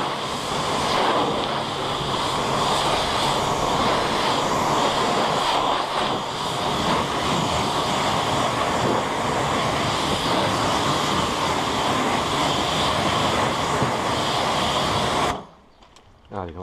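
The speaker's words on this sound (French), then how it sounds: "je vais remettre un petit coup de rinçage sur cette partie-là" A pressure water spray rinsing the engine bay of a Toyota Prius, a loud, continuous hissing blast that holds steady for about fifteen seconds before cutting off abruptly.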